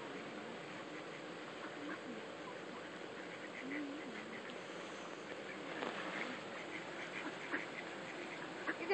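Ducks quack intermittently at a moderate distance at a pond with a beaver present, over a steady outdoor background, with faint voices now and then.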